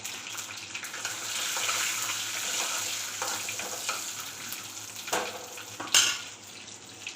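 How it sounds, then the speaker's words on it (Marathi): Cumin seeds, green chillies and curry leaves sizzle in hot oil, a steady crackling fry with spattering pops, a couple of sharper bursts and faint clinks of a pan. "तेल गरम झालं, त्याच्यात जिरे, हिरवी मिरची, कढीपत्ता टाकली"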